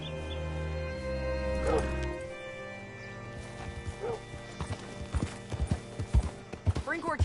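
Horse hooves clip-clop in Red Dead Redemption 2, a run of uneven steps growing louder toward the end, over a steady low ambient hum and some music.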